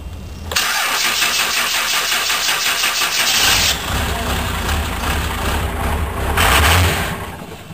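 A weed eater's small engine fires up after a short pull and settles into a loud, buzzing, high-pitched run close by, surging louder twice as the throttle opens.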